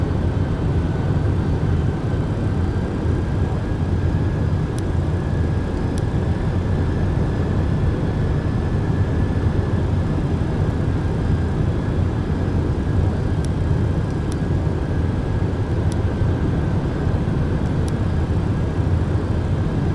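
An MD-11 jet airliner in the X-Plane 12 flight simulator, a steady loud engine drone with a faint high whine, constant throughout with a few brief clicks.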